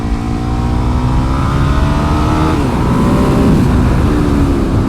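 A Ducati 1098 sportbike, 160 horsepower with no traction control, roars at high revs on a race track, a loud continuous engine howl with rising and shifting pitch close to the rider.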